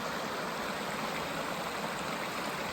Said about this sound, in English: they didn't have to put their tent right here where all the water rushes by